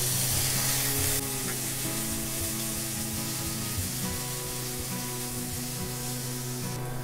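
Half a cup of green peas fries with browned onion and garlic in a pan, a constant dense hiss of sizzling oil running throughout beneath background music.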